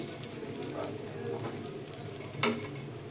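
Beetroot and carrot vegetable chops frying in oil over a medium gas flame, a constant close crackle and sizzle with a brief louder pop near the end.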